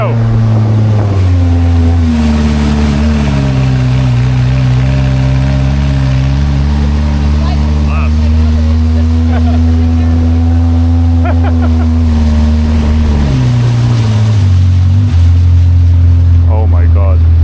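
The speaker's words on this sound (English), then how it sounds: "That engine has some serious power behind it." A powerful boat engine drones loud and close during a ride on the water near Bangkok, a deep steady roar that dips briefly in pitch before settling again, with wind and water noise.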